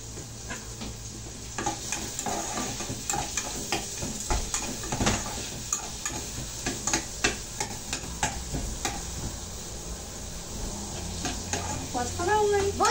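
Beef sautéing in a pan for a simple pot roast, with a soft background sizzle and repeated scraping stirs and clinks of a utensil against the pan, close.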